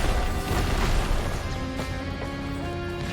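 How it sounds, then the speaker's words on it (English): Explosions from the video game Risk of Rain 2 crash and pop in a dense cluster of bursts layered over steady game sound and music, moderately loud without any speech. "Lots of explosions."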